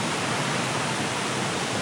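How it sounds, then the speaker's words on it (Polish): A roadside waterfall in the Seychelles pours in a steady, loud, unbroken rush of falling water, with no voices. "Idę jeszcze nakręcić wodospad przy drodze."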